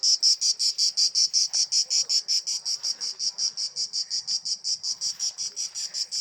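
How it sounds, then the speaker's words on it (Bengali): Crickets chirp in a field, a close, loud, rapid and even train of pulses that repeats without pause, with no talking. "ওই যে ঝিঝি পোকায় ডাকি ভাই"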